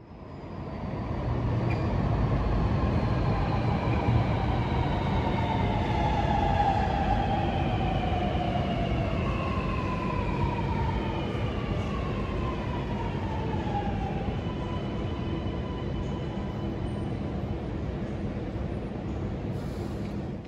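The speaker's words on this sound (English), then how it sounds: "they reduce the noise from trains as they enter and leave the platform" A Sydney Metro train rolls into the Central Station platform, its motors whining in long descending tones as it slows over a steady rumble, then settling into a quieter hum.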